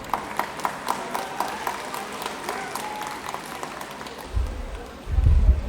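Alumni meet audience applauding, scattered moderate clapping for about four seconds before it fades into low rumbling handling noise.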